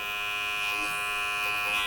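Electric hair clippers fitted with a 0.5 guard cut hair during a taper on hair growing out from braids and twists, giving a steady, close, unbroken buzz with no talking.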